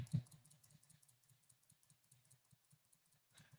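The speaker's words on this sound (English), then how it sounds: "Can you guys hear me clicking the mouse?" Quiet, quick computer mouse clicks from a Coliseum gaming session, a brief loud thump at the start and then a steady run of light taps.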